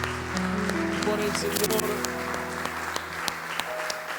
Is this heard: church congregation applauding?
yes